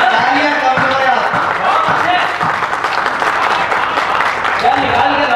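Audience applause and clapping fill a comedy speech venue, a steady, loud wash of hands with crowd noise throughout, continuous from start to finish.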